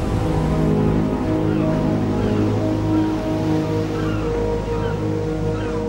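Sea waves surging against coastal cliffs, a deep continuous rumble of surf with low droning tones, steady and fairly loud throughout.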